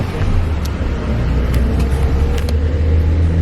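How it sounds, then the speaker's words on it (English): Car interior during a drive toward the Camaya Bamboo House, a loud steady low engine and road rumble with a few faint rattles, no talking. "So I got in the car"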